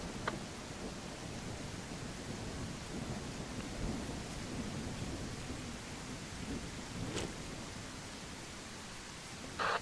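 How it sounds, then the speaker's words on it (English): Steady in-game rain hisses with a low, rolling rumble of thunder beneath it in a military shooter, fairly soft and continuous, with a few brief crackles. "This rain is very loud."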